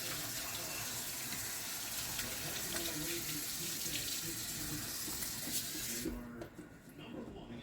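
Kitchen faucet running water into a sink, a steady faint hiss and splash that continues for several seconds before stopping near the end.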